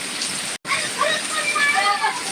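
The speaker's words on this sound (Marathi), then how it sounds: "हा पूर्ण थेट लाईव्ह पाऊस आहे" Heavy rain falling outdoors at night, a dense, steady hiss of drops and splatter that stays fairly loud throughout, broken by one very brief dropout.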